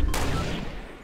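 A single sharp gunshot in Fortnite Battle Royale cracks loud and close, then a short echoing tail decays within a second.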